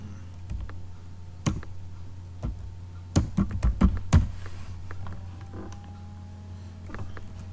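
Keystrokes on a computer keyboard as a command is entered at a Windows 7 command prompt: scattered single clicks, then a quick burst of close, crisp taps in the middle, over a steady low hum.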